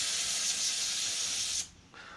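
A continuous aerosol brake cleaner spray hisses for about a second and a half on a 2016 Harley-Davidson Street Glide rear brake, then cuts off, with a short hiss starting again at the end.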